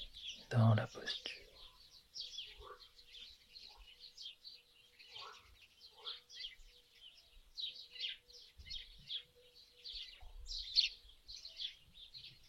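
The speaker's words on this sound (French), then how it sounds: "le chant des oiseaux au dehors" Birds sing outdoors in scattered, quiet chirps and short trills, some closer and some farther off, with a brief low thump near the start and faint murmuring in places.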